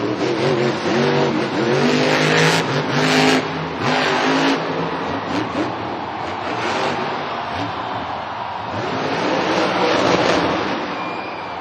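El Toro Loco monster truck engine at Monster Jam in a stadium, loud revving surges and rising roars over crowd noise, easing and building again as the freestyle run continues.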